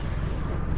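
A steady low boat engine drone runs throughout, with wind buffeting the microphone over it, motoring over a shallow lagoon reef.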